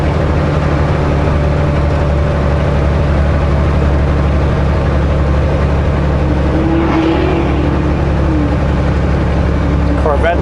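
Corvette engine driving past on a Sunday Summit climb near Greater Vancouver, a steady loud drone with a brief swelling pass midway, heard from inside a moving vehicle.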